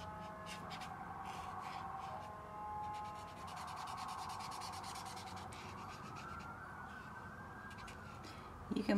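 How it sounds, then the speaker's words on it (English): Police sirens wail faintly beyond open windows, rising and falling at a distance, while close scratching and rubbing sounds from drawing or painting sit over them. "You can probably hear the sirens and maybe the birds in the background"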